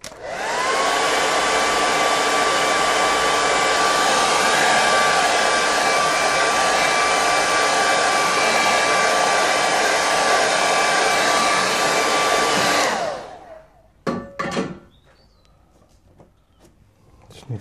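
A hair dryer blows hard and steady for about thirteen seconds as it dries a watercolour painting, a loud close whooshing hum. It then switches off, leaving a few brief clicks and faint room sound.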